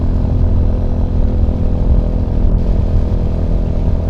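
Royal Enfield Hunter 350 motorcycle engine running steadily while being ridden, a continuous low rumble that stays loud and even throughout with no speech.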